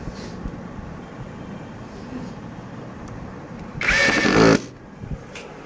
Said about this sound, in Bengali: এই সুইচটা টিপ দেব এবং এই স্ক্রুটা সুন্দর করে এখানে আমরা টাইট দিতে পারবো